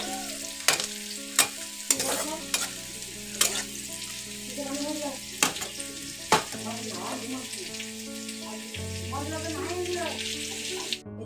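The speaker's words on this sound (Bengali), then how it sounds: "পেঁয়াজের মধ্যে তেজপাতা, গরম মশলা তেলের মধ্যে ফোড়ন দিয়ে দিয়েছি।" Onion with bay leaf and garam masala spices fries in hot oil for a Bengali mutton and potato curry, a steady sizzle punctuated by sharp spoon clanks and stirring, with a voice talking over it.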